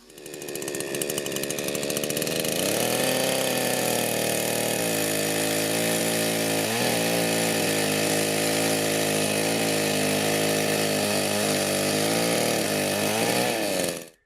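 A chainsaw with a screwdriver-sharpened chain runs loud and close, revving up and then holding a steady, strained whine as it saws through wood, with brief dips in pitch as the cut bites.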